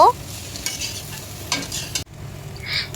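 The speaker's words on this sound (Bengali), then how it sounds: "এবার আমি ভালোভাবে নেড়ে নেব" Potatoes and eggs frying in a pan are stirred with a spatula, giving a steady sizzle under repeated scraping strokes, with a brief pause partway through before the stirring resumes.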